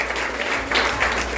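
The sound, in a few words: church congregation applauding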